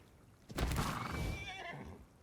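A horse in the survival game ARK Survival Evolved gives a loud, close whinny that rises and then trails off over about a second and a half, with no talk over it.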